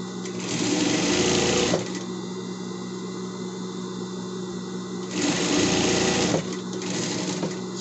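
A sewing machine stitches fabric for a small pet bed shaped like a house, running in three steady, close buzzing bursts separated by short pauses.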